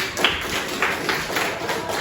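Classroom audience clapping for a student group called Saman, a short, fairly close patter of several hands with a few sharper claps standing out, no voices over it.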